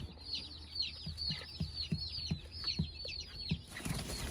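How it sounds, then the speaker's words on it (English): Three young American breast chicks in a tote give steady, high, rapid peeping close by, with soft scuffling and light taps underneath. "These are our American breast chicks that we purchased from North Star Farms."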